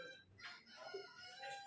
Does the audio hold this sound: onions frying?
no